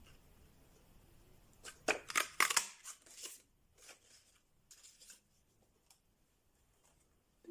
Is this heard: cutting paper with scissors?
yes